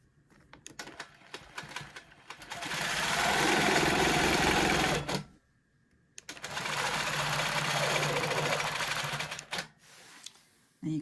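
A sewing machine quilts a cross-hatch pattern along a ruler in two sustained bursts of fast, steady stitching with a short pause between, close and loud, with faint clicks of handling around them.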